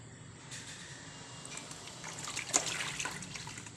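Bore well water poured out for betta fish breeding, a soft steady trickle and splash with brief droplet spikes, close and fairly quiet, no voices.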